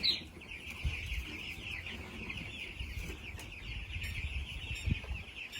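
Young broiler chicks, about fifteen days old, peep and cluck continuously in a shrill chorus at close range, with low rustling and thumps underneath and no talk.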